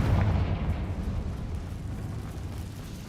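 A Confringo fire spell exploding in the Hogwarts Legacy game, a heavy low boom that rolls and rumbles away over about three seconds, loud and alone.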